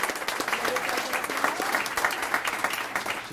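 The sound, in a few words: audience applause at business event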